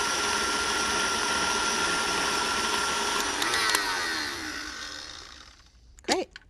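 A stand mixer with a paddle attachment whirs steadily as it beats buttercream, a loud motor drone that winds down and stops near the end, followed by a brief clink.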